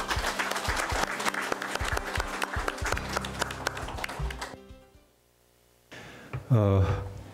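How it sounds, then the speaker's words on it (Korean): An audience at a lecture on unification education claps to welcome a former minister to the stage, a few seconds of brisk, crisp clapping that stops abruptly, followed by a short quiet gap and then the start of a voice. "그러면 우리 김천식 전 통일부 장관님 큰 박수로 맞아주시면 감사하겠습니다"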